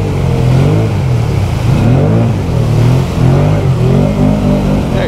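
A 2020 Can-Am Outlander 650 XMR ATV fitted with an STM secondary clutch revs loudly in a swamp, its engine surging and dipping in repeated close pulls throughout.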